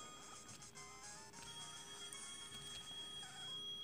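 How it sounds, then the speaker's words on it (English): A phone ringing in a Pokemon video game, a steady electronic ring tone with a high sustained pitch holding throughout, fairly quiet and alone. "Phone!"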